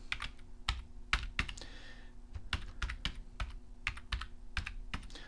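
Crisp keystrokes on a computer keyboard while naming a layer in design software, a quick irregular run of close taps with a short pause midway, no talking.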